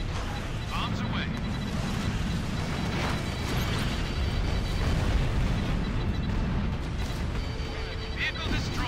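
Bombs detonating on ground targets during an air raid in Ace Combat Infinity, a continuous dense rumble of overlapping explosions and booms with crackling bursts, loud and sustained under in-game radio chatter.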